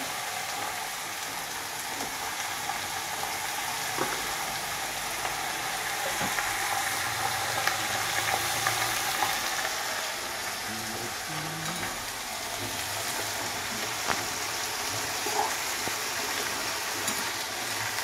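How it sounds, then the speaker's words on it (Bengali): Dry red chilies frying in hot oil for a tempering, a steady, even sizzle that stays close and constant throughout with no speech. "এটা এইভাবে আরো কিছুক্ষণ ভাজা হবে।"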